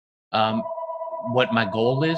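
A phone rings with a steady electronic tone during an indoor conversation about trading, sounding close and continuous beneath people talking.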